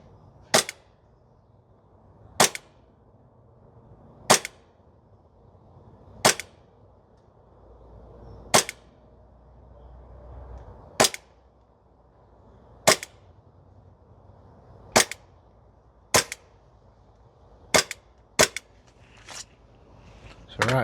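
A Novritsch SSP28 airsoft pistol fires single sharp snapping shots on a range, about a dozen spaced cracks every second or two, close and crisp against a quiet background.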